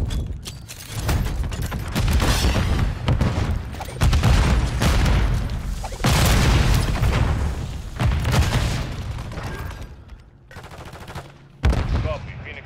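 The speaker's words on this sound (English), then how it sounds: "Place the charge. Detonate the target." Rapid bursts of gunfire and booming detonations fill a Search and Destroy round of a first-person shooter after a charge is set on the target, loud and dense throughout, fading near the end before one final sharp blast.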